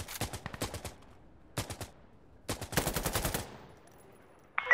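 An ACE battle rifle chambered in 7.62x51 fires in Insurgency: Sandstorm, crisp shots in short bursts and rapid strings, loud and close, with brief pauses between groups and a sharp click at the end.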